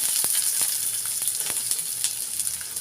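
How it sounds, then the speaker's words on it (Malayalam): Onions sizzle steadily in hot oil, a close, continuous hiss with small crackling pops throughout, and no voices. "അത് കഴിഞ്ഞ് കതിച്ച് കഴിയുമ്പോൾ നമുക്ക് കുറച്ച് ഉള്ളി ഇടണം"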